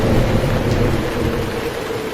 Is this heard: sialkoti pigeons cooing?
no